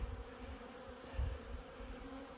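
Swarm of honeybees flying in front of mountain hives on a mild winter day, a steady low buzzing hum with one brief louder swell midway.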